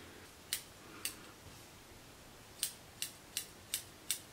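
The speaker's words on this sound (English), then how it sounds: "So if you have scissors and you don't have an eyebrow razor, this is how I would cut it." Scissors cut hair extensions in seven crisp, close snips: two early, then a quick run of five after a pause, against a quiet room.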